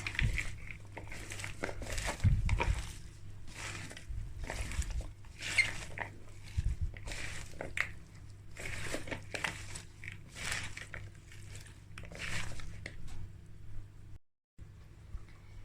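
A plastic bag crinkles and rustles in rhythmic bursts as chicken pieces and frozen red capia peppers are tossed and turned inside it by a gloved hand, close and continuous.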